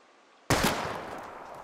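A single loud gunshot from a firearm in the video game Life is Strange, aimed at bottles, bursts abruptly after a near-silent moment and then rings out in a long, slowly fading reverberant tail.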